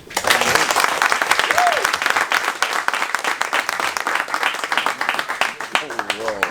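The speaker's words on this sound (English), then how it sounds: "we need to give y'all a clap again" A community talk audience claps loudly and densely throughout, a crowd's sustained applause with occasional cheers and voices mixed in near the end.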